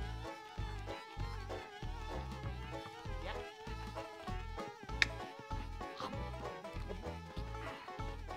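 Bees buzzing in the Nintendo 64 game Conker's Bad Fur Day: a faint insect drone mixed under rhythmic, bouncy game music with a steady bass pulse.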